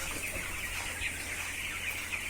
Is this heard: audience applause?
no